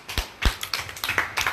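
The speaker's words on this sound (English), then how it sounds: "Clap for yourselves." A small group at an Igbo language class claps for themselves in a short, loose burst of separate claps over a second and a half, close by and uneven in rhythm, with no voices.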